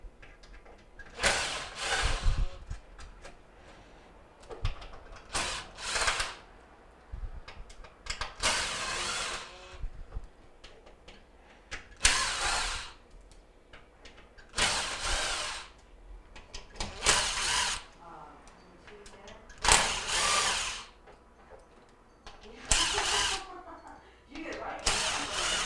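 A power drill backs Phillips screws out of the switches on a Jenn-Air, Whirlpool or Maytag stove control panel. About eight short whirring bursts are separated by quiet pauses.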